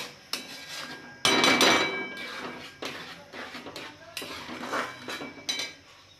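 A spoon scrapes and knocks in a metal pan while motichur laddu mixture is stirred, giving irregular close clanks and scraping strokes with short pauses between them.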